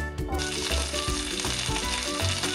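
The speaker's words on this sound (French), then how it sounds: "Faire dorer le porc de chaque côté dans une casserole avec un peu d'huile." Loud, steady sizzling of pork browning in a little oil in a pan, crackling continuously throughout with a few light knocks.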